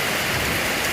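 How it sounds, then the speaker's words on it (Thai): Steady rain pours down on a summer day in Vientiane, Laos, a dense continuous hiss that stays loud and even throughout with no voices. "วันนี้ฝนตก พี่น้องเอ้ยฝนตก"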